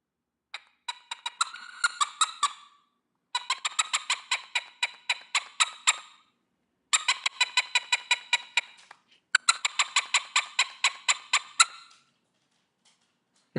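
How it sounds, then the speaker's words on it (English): Rapid, rhythmic clucking in four bursts of repeated sharp pulses, with short silences between, close and clear. "Some fowl. Do you think it's a chicken?"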